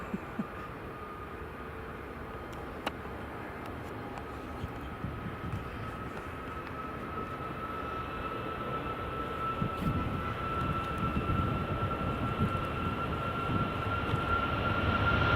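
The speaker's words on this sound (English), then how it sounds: "Ryanair, clear for takeoff." A Ryanair airliner taking off at Edinburgh Airport, a broad jet roar heard from a distance that swells steadily louder over the run, with a faint whine riding on top and no talking.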